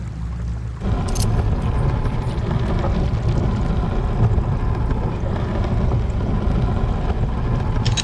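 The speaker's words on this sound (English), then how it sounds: "There, that's got the water flowing." Water begins rushing after a prism lock opens in the video game Echoes of the End: a dense, steady roar that cuts in abruptly after a near-silent second and keeps pouring loudly and evenly to the end.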